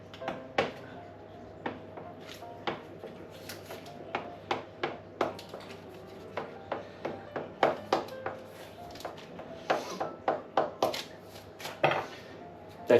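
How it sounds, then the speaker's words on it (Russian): A fork pricks pie dough on a kitchen surface, giving a steady series of light tapping knocks, dozens of close, sharp taps in an uneven rhythm. "Сейчас я проколю еще вилочкой, чтобы воздух не выходил."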